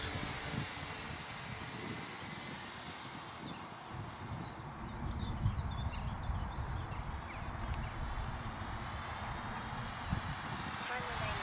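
A Turbo Timber Evolution radio-controlled plane flies slowly with no flaps deployed, giving a steady, droning electric motor hum at a distance under someone talking throughout.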